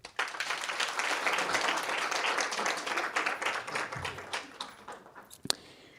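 A seated audience at a leadership academy ceremony bursts into sustained applause, dense clapping that holds steady then thins into scattered individual claps before fading.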